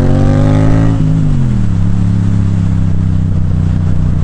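A motorcycle engine hums loud and close, its pitch sliding down as another motorbike passes, steady throughout with no talking.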